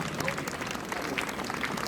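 A brief burst of audience applause at an evening concert, honoring someone in memory: an even wash of many hands clapping at moderate volume, with a few sharper claps standing out.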